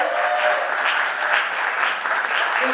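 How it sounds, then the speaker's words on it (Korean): A hall audience at a Basic Income Party founding convention gives a bus driver a long, dense round of applause, steady and fairly loud throughout. "우리 광주의 박현석 기사님께 큰 박수 한번 부탁드립니다"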